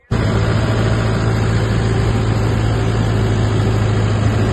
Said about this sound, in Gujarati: તો હવે આપણે ટ્રેક્ટર ચાલુ કરીને પાવર હેરોનું આપણે ડેમો ચાલુ કરશું.